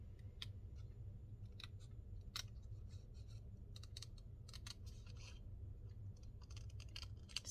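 Scissors snipping paper for a lapbook craft, a run of short, quiet cuts and crisp clicks over a steady low hum from a running heater, with no voices.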